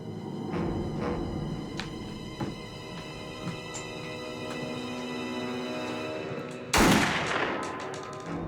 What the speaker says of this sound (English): She shot them very quickly in succession, one after the other.